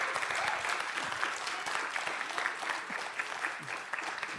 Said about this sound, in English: I ask you to applaud to my team who make it a reality